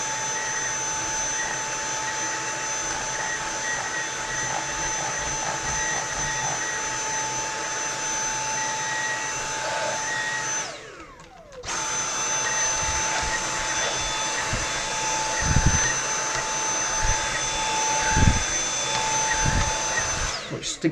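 A hoover vacuum cleaner runs with a steady, loud whine and roar that briefly drops out for about a second, then resumes with occasional bumps and knocks.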